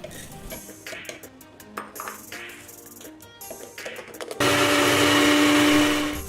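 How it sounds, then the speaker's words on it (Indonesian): Clinks and clatter of a kitchen blender being handled, then a loud, steady close-up grinding roar as it pulverizes toasted coconut serundeng for a festive dish. "kemudian kita blender hingga benar-benar halus"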